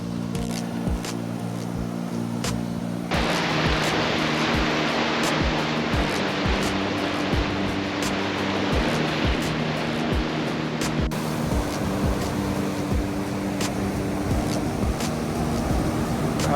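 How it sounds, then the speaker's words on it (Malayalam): Sea waves crash and surge into a cave-like rocky hollow on Stradbroke Island, making a continuous heavy roar of churning water. A low steady hum sits beneath it. "വെള്ളം അടിച്ച് കയറിട്ടെ ഭയങ്കര ഒരു സൗണ്ടാണ് ഇവിടെ."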